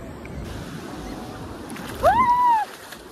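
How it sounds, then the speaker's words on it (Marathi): Big sea waves at a beach in Goa make a steady, close surf roar, with a brief high whistle-like tone partway through. "किती मोठे लाट चालू आहे."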